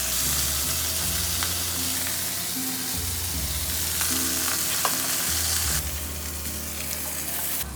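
Merguez sausages sear in a hot pan with a loud, steady sizzle and crackle, punctuated by a few low thumps and shifts as they are moved, close-up and without speech.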